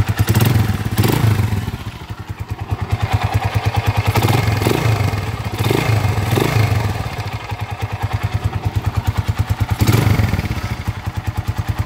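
A 200cc motorcycle engine running with a worn connecting rod, loud and close: a rapid mechanical knocking clatter rides over the steady idle, with a few revs swelling and dipping and no talking.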